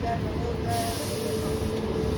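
A Hubballi to Srisailam fast passenger train stands at a station, giving off a steady, close rumble and low mechanical hum that continues without a break.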